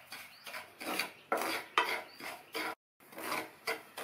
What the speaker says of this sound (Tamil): ஸ்டவ்வில் பேன் போட்டு சூடாயிடுச்சு. அதில் அரை கப் ரவையை சேர்த்துட்டு 2-3 நிமிஷம் வறுத்துக்கலாம்.